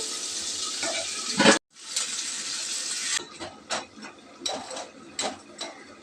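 Water is poured into a prawn curry as it cooks, a close rushing splash that cuts off briefly. Then comes a quieter stretch of bubbling and irregular knocks.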